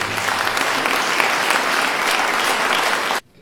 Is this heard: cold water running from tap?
no